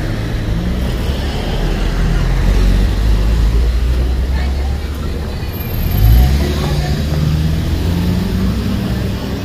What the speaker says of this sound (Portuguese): o carro vai parar na faixa de pedestre para a gente passar.